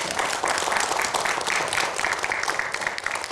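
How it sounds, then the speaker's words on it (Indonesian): Dense audience applause fills a TV studio, loud and steady throughout with no pauses, the clapping of many hands blending into a continuous roar. "Kita berikan aplaus."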